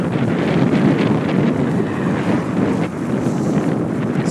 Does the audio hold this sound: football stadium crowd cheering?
no